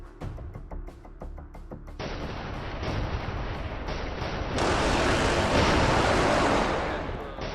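AARGM anti-radiation missiles striking Russian air defenses in a video game, heard as a series of heavy booming impacts that build into a loud, sustained roaring blast layered over rumbling explosions.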